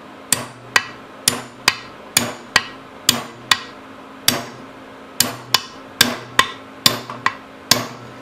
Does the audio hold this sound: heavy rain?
no